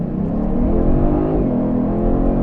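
A 2022 Genesis G70 3.3 Turbo launches hard, its engine roaring close and loud as it pulls steadily through acceleration from inside the car.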